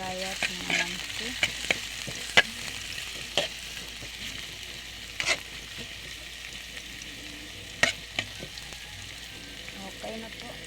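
Thinly sliced ginger sizzles softly as it is stir-fried in a pan with fish for sarsado, a low steady fry punctuated by scattered clicks and scrapes of a spatula against the pan.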